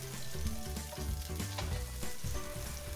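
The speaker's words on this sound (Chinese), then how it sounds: "再把切好的姜、蒜、辣椒放进去翻炒一下" Chopped ginger, garlic and chili hit hot oil in a wok over medium heat, giving a loud, continuous sizzle with occasional scraping from the stir-fry spatula, close up and with no talk.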